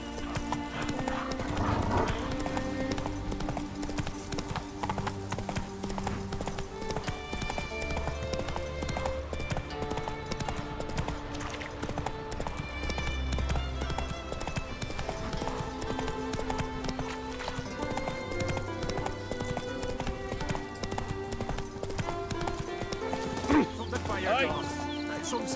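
Roach, the horse in The Witcher 3 video game, clip-clops along with steady hoofbeats, whinnies at times, and carries on under background game music and occasional voices.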